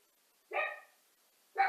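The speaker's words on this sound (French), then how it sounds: "le facteur vient d'arriver, klaxonner, mon chien aboie" A dog barks twice indoors, two short, sharp, close barks separated by about a second of near silence.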